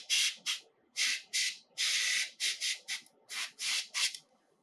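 An airbrush spraying glaze onto a painted miniature model lets out short, close hissing bursts, about a dozen spurts of varying length with brief pauses between.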